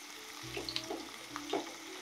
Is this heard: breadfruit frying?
yes